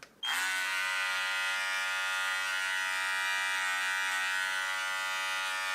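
An electric hair clipper set to a short 0.8 to 1 mm guard runs steadily, close and loud, as it trims the hair around the ears and the side of someone's own head at home.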